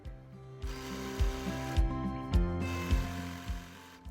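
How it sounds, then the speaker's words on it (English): A sewing machine stitches along the folded hem edge of a garment, its motor humming steadily with rhythmic mechanical thumps about every half second, close and loud with no talk. "And then we're going to stitch starting and stopping at that center front line along that folded edge"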